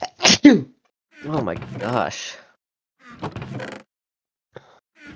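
A single sharp sneeze bursts out at the start, close and loud, during a relaxed chat over a Cobblemon Minecraft game; people talk right after it.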